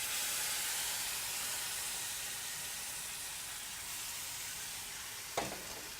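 Tomato dropped into a hot pan for tomato sauce sizzles and fries with a steady, loud hiss throughout, with a brief sharper crackle burst near the end.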